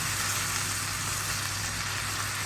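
String beans (sitaw) frying for adobo in a pan, a steady close sizzle with a constant hiss that does not change and has no talk over it.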